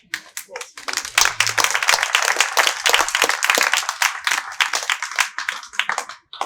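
A crowd at an outdoor environmental exhibition event in Saint-Malo applauds a speaker with brisk, rapid hand claps, fairly close and continuous, with a few voices mixed in.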